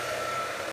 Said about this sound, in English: So we're going to use a hair dryer.